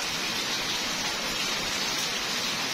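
Steady, dense rain hisses evenly throughout, a constant wash of noise with no voices or breaks.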